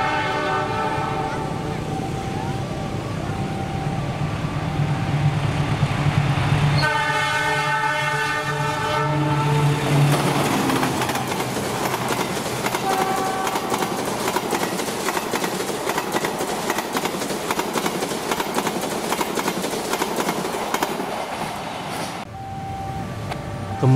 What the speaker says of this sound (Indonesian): Kemudian ini kereta api Argo Cirebon 23F